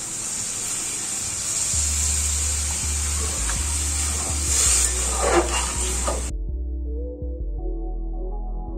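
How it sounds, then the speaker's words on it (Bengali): Water goes into a hot pan of cooking potatoes, raising a loud, steady sizzling hiss that runs for several seconds before cutting off abruptly, leaving low kitchen rumble. "এরপর আলুটাকে রান্না করার জন্য দিয়ে দেব পরিমাণ মতো জল।"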